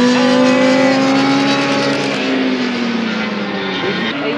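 Big racing motorcycles at Croft Circuit screaming past together at high revs, a loud, sustained engine whine with sliding pitch as the pack passes, fading slightly toward the end.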